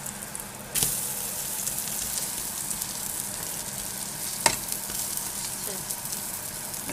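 An omelette sizzles in a pan with a steady, even frying hiss, broken by two brief sharp clicks as it is flipped; no talking over it.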